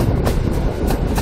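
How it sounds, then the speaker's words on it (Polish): Railway wagons of a Polish sleeper train roll along the rails with a steady loud rumble and faint periodic clatter, no voices. "wagony od pociągu Telga Pomerania"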